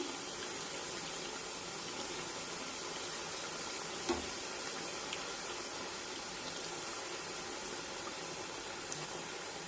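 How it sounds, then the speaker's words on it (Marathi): Potato puri for fasting deep-frying in hot oil, a soft continuous bubbling hiss with one faint clink midway, steady and fairly quiet throughout. "दोन्ही बाजूने पुरी छानपैकी तळून घेऊया"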